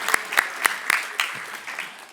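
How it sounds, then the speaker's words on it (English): A small audience at a graduation ceremony claps briefly, a few sharp hand claps at first that thin out and fade within two seconds. "let's give him some applause"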